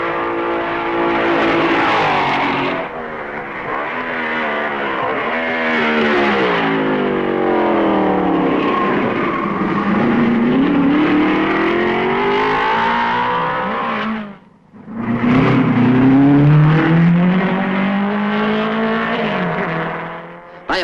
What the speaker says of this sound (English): Kling passes Musso at Malmedy